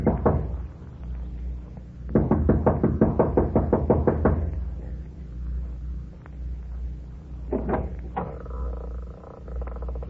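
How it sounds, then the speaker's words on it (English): Impatient knocking on the front door of a lodge comes in quick bursts of sharp raps, a long rapid run followed by a shorter flurry, close and loud with pauses between. "She knocks impatiently"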